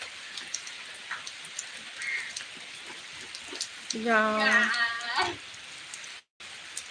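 Heavy rain pours steadily as a dense, close hiss across the whole stretch, with a brief voice rising over it partway through before a short cut near the end.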